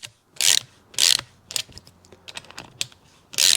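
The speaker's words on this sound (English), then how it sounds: "puller adapter pulls all the way through the bearing" Puller adapter drawn through a tight fifty-year-old bearing on a Yamaha 100 Trailmaster engine, giving a series of sharp ratcheting, grinding bursts at close range, with quieter clicks and scrapes between them.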